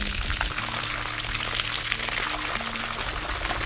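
Water flushing out the open end of a drip irrigation line, a steady close rushing gush that stays loud and continuous throughout.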